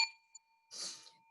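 A single bright bell ding rings out clearly and decays with a sustained metallic tone, followed by a faint second tap and a soft breathy rustle.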